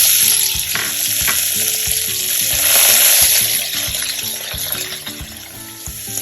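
Garlic, ginger and cilantro fry loudly in a hot pan while a spoon stirs through them, giving a dense continuous sizzle with regular knocking scrapes, up close and without any talking.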